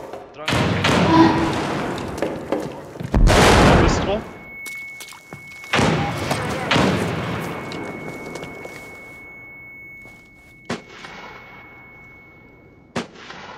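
A frag grenade is thrown and goes off in a competitive shooter game match, giving a few heavy booming thuds and sharp impacts with ringing tails, a loud blast near the start and smaller hits later.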